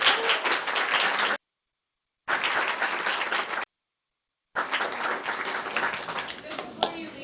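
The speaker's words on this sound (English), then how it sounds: "Can we give a round of applause to Angela real quick?" Audience applause at a technology training event in New York City fills three bursts of steady clapping separated by silent gaps, moderately loud and sustained across the room.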